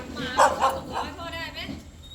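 A puppy gives a few short, high yips and barks close by, mixed with soft whimpers, while people talk over it.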